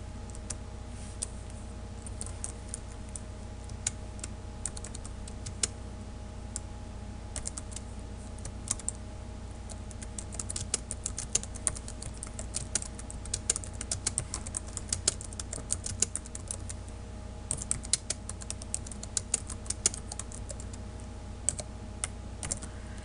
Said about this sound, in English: Now I'm going to type that cout command